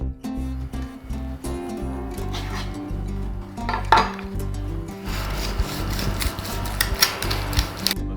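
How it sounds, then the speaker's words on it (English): Meatloaf being scraped and lifted out of a metal pan, loud close rubbing, scraping and clanking of utensil against pan, with a busier rasping stretch in the second half. "Let's get the meatloaf out of the pan"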